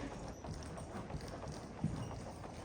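A ridden horse trotting in a bridle-training session, hooves clip-clopping in a faint, fairly steady rhythm, with one slightly louder footfall near the end.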